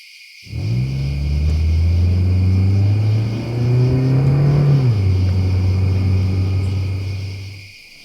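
A car engine starts near and revs steadily as the vehicle pulls away, its low droning tone rising and then dropping back before the sound fades, with a faint insect-like hiss in the background, set in a Thai ghost story.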